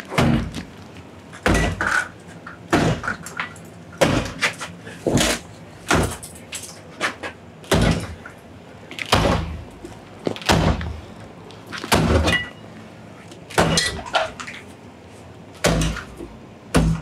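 A damaged door bangs again and again, with about a dozen loud, sharp thuds at irregular intervals, some spaced closely and some further apart. The impacts are close and forceful.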